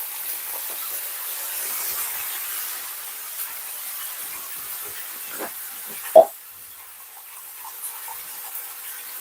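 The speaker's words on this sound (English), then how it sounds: "So I'm just gonna add some water just to help steam him." Water hissing and steaming over white cabbage in a cooking pot, a steady soft hiss throughout with a brief louder sizzle burst midway, no talking.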